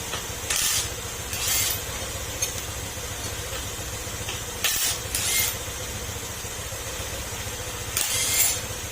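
A Honda Beat FI scooter engine idles with a steady low drone, and bursts of higher hiss or whine rise briefly three or four times over the run.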